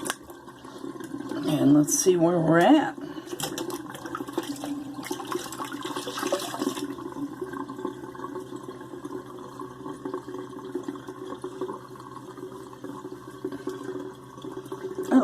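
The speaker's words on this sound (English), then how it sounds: "Let's let the water out." Water drains out of a sink after a straight razor shave, a steady gurgling flow that starts loudly with a brief burst and settles into a continuous low trickle, with someone speaking briefly near the start.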